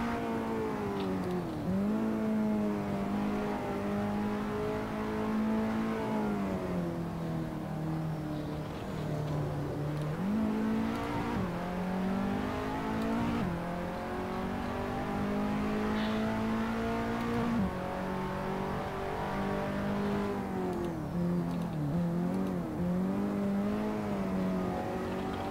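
A KTM X-Bow race car in a racing video game drones steadily at high revs, its engine note rising and falling through gear shifts and braking, close and constant with no voices.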